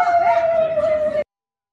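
A single sustained howl holds a steady, slightly wavering tone for just over a second, loud and close, then cuts off abruptly into silence.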